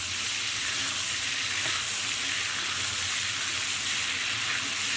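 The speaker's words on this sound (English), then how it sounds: "turn the heat off and add in a tablespoon of butter. And we're just going to baste our steak with the butter" Steak sizzling and frying in a hot pan as butter is spooned over it for basting, for a Jamaican jerk steak; a loud, steady, dense crackle runs unbroken throughout with no talking.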